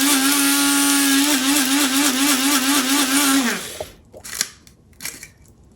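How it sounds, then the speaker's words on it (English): An electric spice grinder whirs loudly with a steady motor whine while grinding garam masala spices, then cuts off abruptly after about three and a half seconds, followed by a few faint rattles and knocks. "jump back to the grinder"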